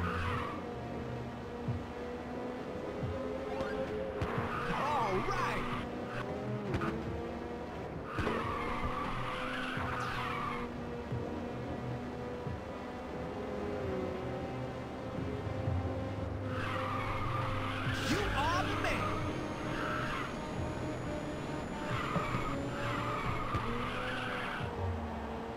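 Tires skid and squeal through repeated drifts in the racing game Ridge Racer 2, with long screeching slides over a constant engine drone and game music, loud and sustained across the whole stretch.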